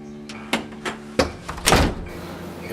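A door being banged or broken: several heavy, close thuds and bangs at irregular intervals, each sharp and loud, the last one a longer crashing impact.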